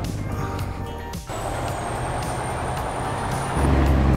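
A truck releases a sharp hiss of air brakes, then a steady rumble of idling with faint high beeping from reversing alarms at a loading dock, ending in a louder low engine surge.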